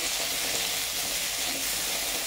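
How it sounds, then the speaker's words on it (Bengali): Chopped green tamarind fries in tempered oil for a chutney, giving a steady, close, even sizzle with no break. "আমাদের কেটে রাখা কাঁচা তেঁতুলটা দিয়ে দিলাম এর ভিতর, যে ভালো করে একটু ভাজা ভাজা করে নিতে হবে"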